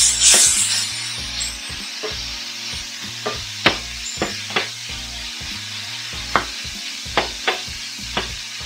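Homemade Mexican chorizo made from 80-20 pork fries in a pan over lowered heat, a steady sizzle broken by a series of sharp scrapes and taps as the meat is stirred, close and alone.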